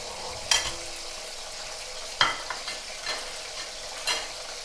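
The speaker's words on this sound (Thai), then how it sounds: "ตอนนี้เราก็ทอดปลา ไปก่อนนะคะ" Sun-dried snakeskin gourami fish frying in a pan, giving a steady, soft sizzle with a few sharp clinks of a utensil against the pan at intervals. No one speaks.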